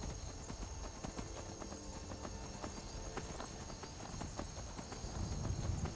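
Hooves clip-clop at a steady walking pace in the video game Skyrim, faint and mixed under wind-like ambient game sound.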